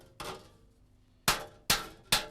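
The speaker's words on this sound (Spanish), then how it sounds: "Y hay que ir curvándolo poco a poco con el martillo," In a rural forge, a hammer bends metal over an anvil with sharp, ringing blows: one early strike, then three more in quick succession, close and clear against a quiet workshop.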